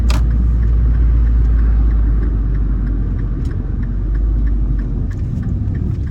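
A car drives along a residential street in Richfield, Minnesota, its steady engine rumble and road noise continuous and fairly loud for the whole stretch, with no talking.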